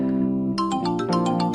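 A mobile phone ringtone plays a short, bright melodic chime that repeats in quick beats, clear and close, with no talk over it.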